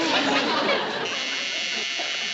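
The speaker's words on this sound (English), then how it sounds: "It's a timer on the washing machine." A washing machine timer buzzer sounds as one continuous, steady electronic tone, loud and close, with some room noise or chatter mixed in at the start.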